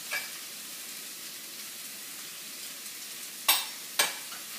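Food frying in a pan seasoned with fresh ground pepper and salt gives a soft steady sizzle, with two brief sharp bursts near the end as it is tossed, fairly quiet and alone.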